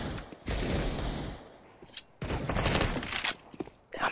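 Counter-Strike match on Dust 2, with bursts of rapid gunfire from Desert Eagle and Five-seveN pistols mixed with other shots, loud dense volleys separated by brief pauses.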